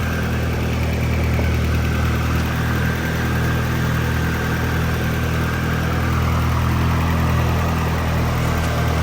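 An S14 car's engine idling after sitting unused for some time, with a steady, even low rumble and hum that holds constant throughout, no talking.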